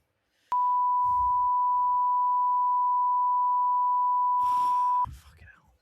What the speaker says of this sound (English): that's the bit that's getting beeped